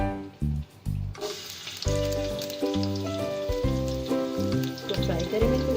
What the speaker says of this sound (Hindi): तो फ्राई करेंगे कुछ देर।